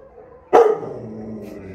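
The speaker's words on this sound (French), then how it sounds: "Il aboie un peu, mais il a l'air super intelligent" An American Staffordshire terrier at an animal shelter lets out a single sharp, loud bark nearby, which rings briefly against a steady low background hum.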